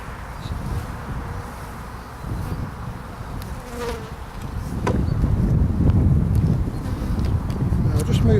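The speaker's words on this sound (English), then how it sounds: "Lots of nice new bees there." Honey bees buzz in a dense swarm around an open hive during a beekeeping inspection, a close, continuous drone with wind noise that swells louder partway through.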